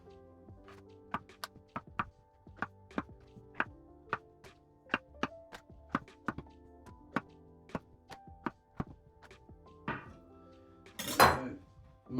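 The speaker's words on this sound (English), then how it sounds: "Just chopping them in quarters." Chestnut mushrooms being chopped into quarters with a knife on a board: a steady run of crisp, close taps about twice a second, ending in a brief clatter, with no talking.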